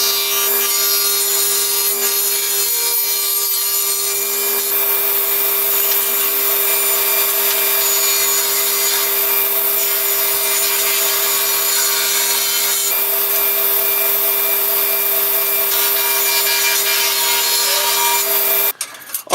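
A hand saw cuts pieces of wood to size for a crosscut sled, a steady unbroken rasping drone running close and loud for the whole stretch, with no talk.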